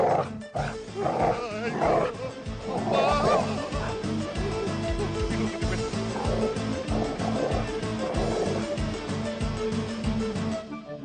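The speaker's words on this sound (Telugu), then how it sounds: "అదే కుక్క." A dog growls and snarls in a film scene, a continuous rough, low rumble lasting the whole stretch over a dense, layered background.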